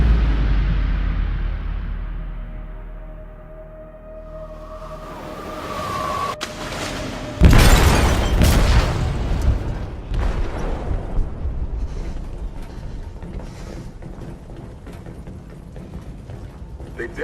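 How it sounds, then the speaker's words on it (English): Explosion in a ship's hold in Detroit: Become Human: a low rumble and rising tone build up, then a sharp loud blast hits, followed by crashing, clattering debris and decaying rumble, with faint talk in places. "They detonated an explosive in the hold."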